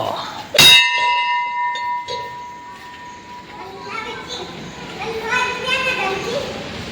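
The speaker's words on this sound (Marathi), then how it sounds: "बघा मंदिराचा घंटा." A temple bell at Motha Mahadev temple in Sindkhed Raja is struck once, loud and close, and its metallic tone rings and fades over about a second. Children shout and play around it.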